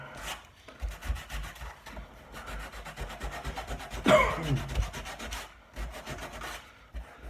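Steady back-and-forth rasping of 180 grit sandpaper on a wooden dining table surface, close and continuous with rhythmic strokes and a few brief pauses.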